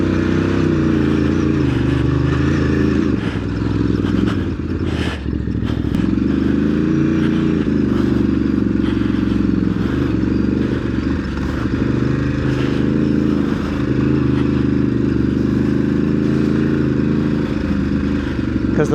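Ducati DesertX adventure motorcycle ridden off-road on dirt trails at Browns Camp, its engine droning steadily and loud throughout with rough clattering from the terrain, and no talking over it.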